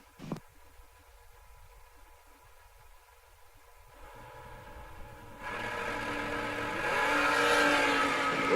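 At a drag strip, Rob's Towing dragster and a next-gen chassis dragster race. After a quiet stretch, distant engine noise swells into a loud, sustained roar that keeps building toward the end.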